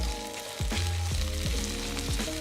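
Vegetables sizzle in a pan as they cook down and soften, a loud steady close hiss that runs continuously, with no talking.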